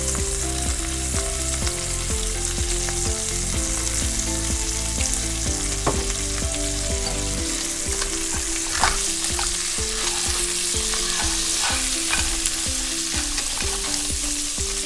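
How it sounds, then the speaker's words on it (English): Crab sautéing in a pan with Trader Joe's seasoning gives a loud, continuous crackling sizzle, with scraping and stirring strokes through it and no voices. "And saute well."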